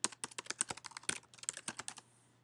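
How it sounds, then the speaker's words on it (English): Rapid typing on a computer keyboard while entering registration details, a close, steady run of crisp key clicks that stops abruptly near the end, with a faint low hum underneath. "Good, I get to type it in again."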